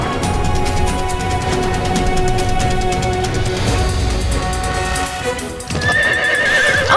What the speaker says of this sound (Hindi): वो रहा अश्व।